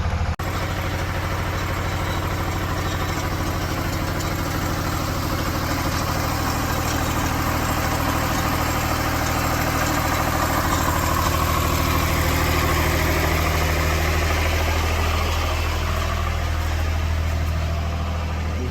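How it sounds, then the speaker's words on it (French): A motor idles while driving a water pump that empties a leek pit, a continuous low, even rumble with a faint mechanical hiss, close and loud, running alone without talk. "Alors après le moteur est au ralenti."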